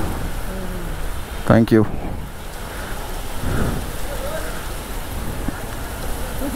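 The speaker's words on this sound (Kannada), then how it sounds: "बारिश भैया, बारिश आ रहा है, 2 मिनट।" Steady rain falls outdoors on a roadside in Gujarat, a continuous broadband hiss throughout, with a short spoken exchange near the start and some faint background noise.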